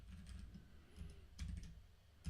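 Quiet, close typing on a computer keyboard during a typing speed test, a fast irregular patter of key clicks with no talk.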